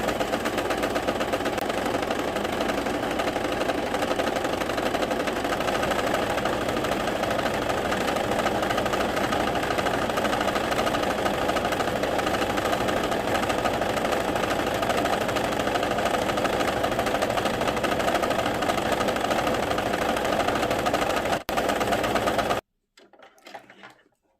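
A domestic sewing machine runs a decorative pico stitch in one long steady whirring drone with rapid mechanical chatter, loud and close. It stops abruptly near the end, leaving faint handling noise.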